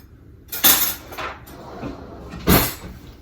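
Someone fetches a knife in a kitchen: two sharp bursts of cupboard or drawer clatter and clinking cutlery, close by, with quieter handling noise between them.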